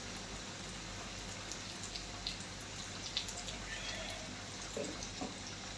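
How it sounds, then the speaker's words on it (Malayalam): Fish frying in hot oil in a home kitchen gives a soft, steady crackling sizzle with scattered pops and spits, faint and close, with no talk over it. "ഏകദേശം മീൻ പൊരിച്ചത് ഓക്കെ ആയി തോന്നുന്നതാ"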